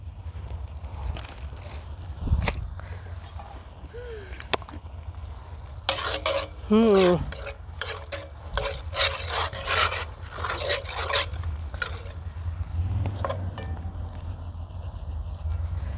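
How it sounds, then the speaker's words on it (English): Cream cheese being stirred into macaroni in a cast-iron Dutch oven over a campfire, giving steady rasping, scraping strokes with brief clinks, fairly close, with outdoor background noise and a few short sounds in between. "I'm just putting in a couple globs of cream cheese and then we'll stir that in"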